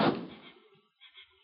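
A front door in a radio drama gives a sharp thud that fades over about half a second, then two faint creaks or clicks follow in the quiet.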